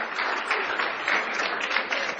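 Audience applause in a church teaching session, a dense steady wash of many hands clapping at once, close and loud and sustained throughout with no voices over it.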